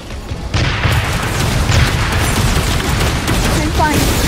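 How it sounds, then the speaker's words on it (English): Gunfire and booming blasts from a mecha battle in the Super Mecha Champions video game, a dense continuous barrage of shots and impacts, loud and close throughout. "Open fire!"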